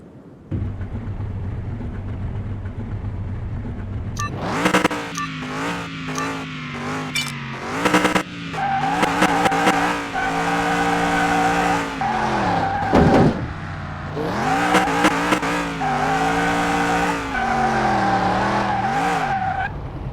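A Salem 1500 car in Car Mechanic Simulator 21 accelerates with a rising, gear-shifting engine note and repeated loud tire skids and squeals over about twenty seconds, with no voices.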